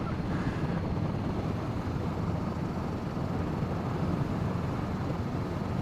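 A Honda CB500F motorcycle cruises through a city at night around 2,500 RPM, a steady low rumble of engine buried in constant wind roar, unbroken and with no speech.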